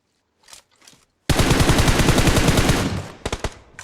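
Close, loud automatic gunfire in PUBG Mobile, a long sustained burst of rapid shots after a few faint distant ones, then a short closing burst.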